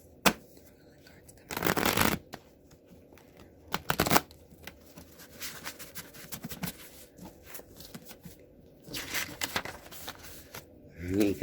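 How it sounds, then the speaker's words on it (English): Tarot cards riffle-shuffled three times during a psychic reading, each shuffle a loud papery burst close by, separated by quieter handling and faint room noise. "I shuffle 3 times."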